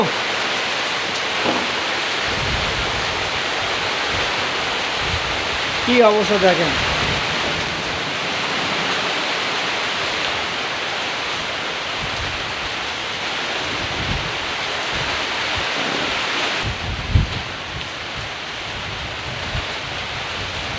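A wind-driven rainstorm blows into a village house, a loud, continuous roar of rain and gusts filling the whole stretch, while a person speaks briefly over it and a few soft knocks sound nearby.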